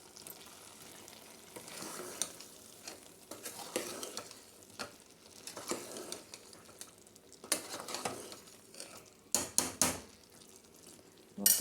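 Drumstick, brinjal and potato curry seasoned with salt and garam masala is stirred in a hot pan, giving steady soft sizzling broken by irregular scrapes and clatters of the spoon against the metal, louder knocks near the end, with no talking.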